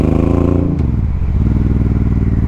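A muscle-style motorcycle engine rumbles loud and close, with a deep, lumpy idle that shifts pitch once as the throttle is blipped, then settles into a steady throb.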